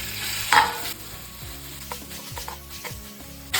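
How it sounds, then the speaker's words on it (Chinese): Minced meat fries in a wok after eggplant, giving a close, steady sizzle with a few sharp crackles and stirring scrapes, no voices. "煎一下肉末。"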